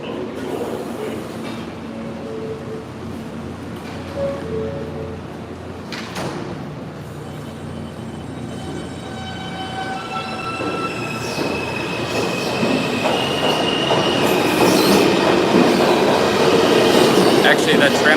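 A New York City subway train runs on its rails, a continuous rumbling roar with squealing wheels and rhythmic clatter that grows louder toward the end, with faint chatter and brief tonal squeals over it.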